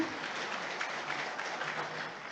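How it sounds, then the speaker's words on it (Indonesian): At a city council swearing-in and leadership handover ceremony, the assembled guests give quiet, distant applause, a soft continuous patter of many hands that stays level from start to finish. "Hadirin, boleh kita berikan tepuk tangan yang luar biasa"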